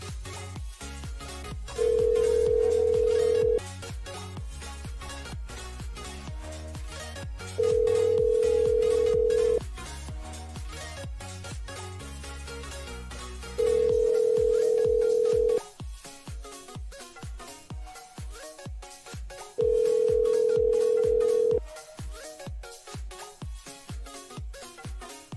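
A telephone rings back four times in steady long tones while a call is placed, each ring separated by a few seconds of rhythmic background sound.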